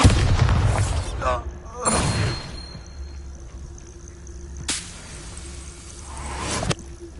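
Bombarda explosion spells cast in Hogwarts Legacy on PS5 go off as four heavy booms spread across several seconds, each a sharp blast trailing into a rumbling decay over a low background hum.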